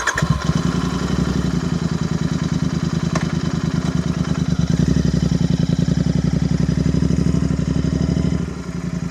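A Royal Enfield 650 twin with its exhaust removed idles loudly and close by, a steady, raw, clattering rumble with rapid even firing pulses that runs throughout with no talk.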